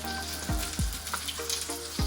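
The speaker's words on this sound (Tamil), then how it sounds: "இப்போ சுட போகிறோம் நாங்கள் banana cake. Banana pan cake." Banana pancake batter sizzles steadily in a pancake pan, a close, continuous frying hiss with a few light clinks and scrapes from utensils.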